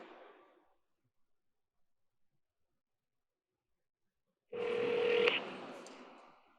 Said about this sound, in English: We're gonna make a phone call to an interview coach